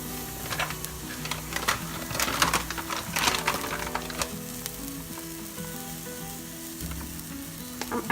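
Chopped garlic sizzles in a pan for beetroot soup: a steady, close frying hiss with scattered crackles and a few sharper pops, running under soft, tuneful background music.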